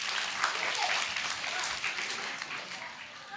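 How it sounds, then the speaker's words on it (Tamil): Audience applause at a church Christmas service, a dense, steady clapping from a crowd lasting throughout and tapering slightly at the end. "மறுபடியும் நல்ல ஒரு பெரிய கைத்தட்டல் கொடுத்துடலாமா?"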